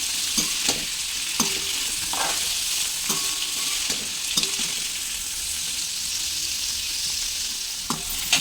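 Snake gourd frying in an open, uncovered pan gives a steady sizzle broken by repeated spatula scrapes and knocks at an uneven rhythm, close and moderately loud.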